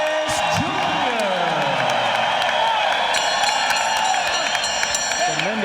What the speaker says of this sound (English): Tremendous applause for the youngster